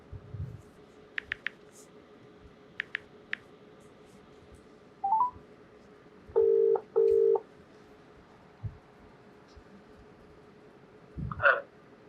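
A phone is dialed before a call: scattered short electronic beeps and clicks, then two steady dialing tones in quick succession, with a brief burst of bleeps at the end.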